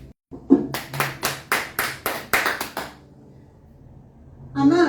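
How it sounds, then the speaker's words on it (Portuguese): Congregation clapping in a church service, about a dozen distinct, fairly close hand claps in a loose rhythm over a couple of seconds, then quiet before a voice resumes. "aplauda o Senhor"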